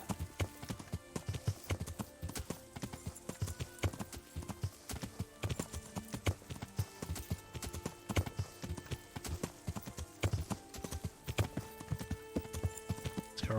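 Hooves clip-clop in a steady, continuous rhythm as a horse is ridden in the medieval video game Kingdom Come: Deliverance. The clear, moderately close footfalls carry on throughout.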